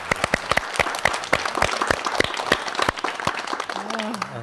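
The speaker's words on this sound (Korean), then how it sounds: "박수로" Studio audience at a Korean Christian broadcast welcomes a guest pastor with close, crisp applause whose individual claps stand out, and a voice starts in the final moment.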